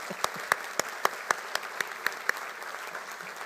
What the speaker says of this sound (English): we thank our engineering faculty once again with one more round of applause